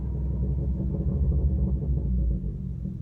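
Deep, steady rumble from the loud exhaust of a 2019 Honda Accord as it downshifts, a heavy low drone holding strong for about two and a half seconds, then easing slightly near the end, with no voices.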